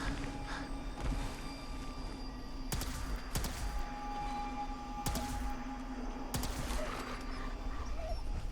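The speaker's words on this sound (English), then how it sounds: "No, dogs." Dogs in the video game Fallout 4 bark and yip in scattered bursts, several sharp thumps among them, over a steady low in-game hum; the sound is fairly faint and no one talks.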